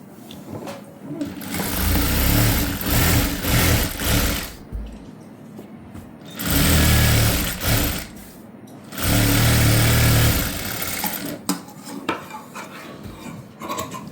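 A sewing machine stitches a blouse piece in three long steady runs of fast mechanical whirring, each lasting a couple of seconds, separated by quieter pauses with faint handling sounds.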